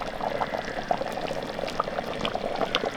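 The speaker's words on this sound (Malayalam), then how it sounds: "കുറച്ച് വെളിച്ചെണ്ണ ഒഴിച്ചു കൊടുക്കാം" Coconut oil is poured into a hot pan to temper a Kottayam-style fish curry, giving a soft continuous trickle with light sizzling crackles, close and steady throughout.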